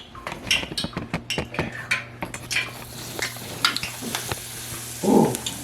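Cookie dough fries in hot oil with a steady soft sizzle, broken by scattered clinks and scrapes of a utensil against the pan and a brief louder burst near the end.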